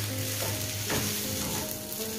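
Chicken thoran with grated coconut being stirred as it fries in a pan, Kerala style, making a loud continuous sizzle with a brief scrape of the spoon near the middle, no talking.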